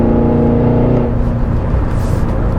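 A 2022 Cadillac Escalade V engine on overrun while driving, a loud close low rumble that starts with a steady tone and breaks into rough crackling burble as it decays.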